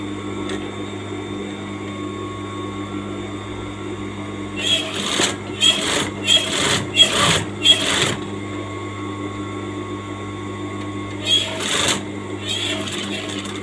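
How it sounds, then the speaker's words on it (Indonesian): A sewing machine runs in short bursts while stitching a two-welt fabric pocket, with several quick pulses close together, then a pause and a few more later, over a steady background hum. "baru kita mulai langsung jahit"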